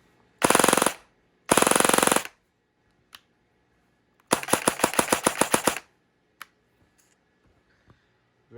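A Krytac Kriss Vector airsoft AEG fires on full auto: two loud, sustained buzzing bursts, then a longer rattling string of rapid shots, with scattered mechanical clicks between them in a quiet room.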